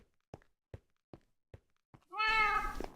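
A cat meows once in the Minecraft video game, a short, clear synthetic mew after a series of light, evenly spaced block-like thumps, with no talking over it.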